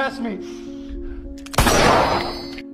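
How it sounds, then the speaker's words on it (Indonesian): A sudden loud blast cracks out after a moment of quieter sound and a steady tone, its noisy burst lingering and fading. "mengeluarkan sebuah tembakan sebagai tanda peringatan"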